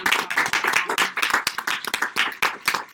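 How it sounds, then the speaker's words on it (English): Awards-event audience applauding frontline workers: brisk, fairly close clapping from a small crowd, individual claps distinct and uneven in rhythm, continuing for the whole stretch. "So if everybody can just give a little applause for them."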